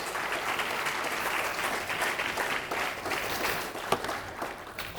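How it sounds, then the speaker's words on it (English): Sustained audience applause filling a lecture hall at the end of the 2013 Bronfenbrenner Lecture, a dense even clapping texture for several seconds with a few louder individual claps near the end. "Start clapping for myself."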